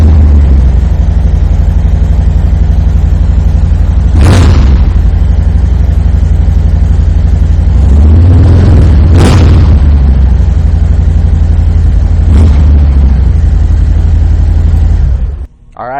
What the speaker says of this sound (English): Cobra exhausts just have a very nice low note to them, a good rumble